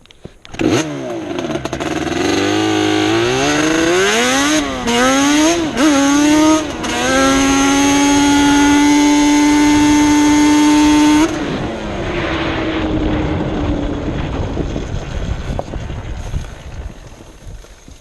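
A Yamaha Banshee ATV engine runs a pull under brake load, screaming loud and close as revs climb in rising sweeps, holding a steady high whine, then dropping back to a rough idle with wind rumble.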